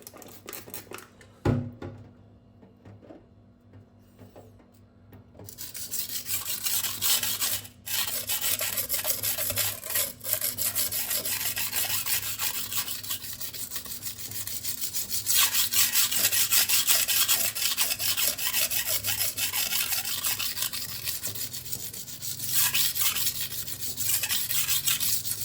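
A kitchen knife is sharpened on a Gritomatic Sica stone, close-up steady scraping strokes of steel rubbing across the stone, building to a continuous rhythmic rasp after a quiet start.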